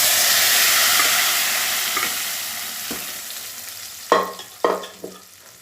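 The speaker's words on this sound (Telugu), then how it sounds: "తాలింపు అంతా చక్కగా వేగిపోయిందండి." Tempering (tadka) sizzles and fries steadily in a hot pan for a tomato dal, with several sharp clattering stirs near the end standing out loudly over the continuous hiss.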